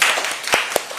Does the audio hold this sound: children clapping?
yes